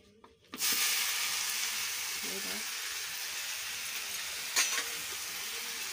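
Cabbage frying in hot oil in a pan: after a short quiet start, a loud, steady sizzle takes over and holds, with a brief stirring clatter near the end.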